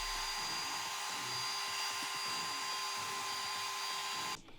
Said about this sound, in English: we're going to have to use a wire wheel and just clean up on that inner race